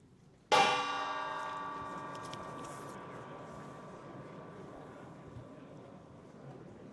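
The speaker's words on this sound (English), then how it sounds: "Well, the gong has been struck." A gong struck once to open the games at a chess tournament in Wijk aan Zee rings out loud and metallic, its shimmering tone slowly decaying over several seconds in a quiet hall.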